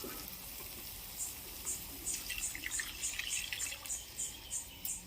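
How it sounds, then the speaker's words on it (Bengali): Milk poured into a prawn malai curry base of well-fried masala that has released its oil gives a quiet, soft sizzle with scattered light drip-like ticks and bubbling, faint and without speech. "এই সময় আমি দুধটা দিয়ে দেব"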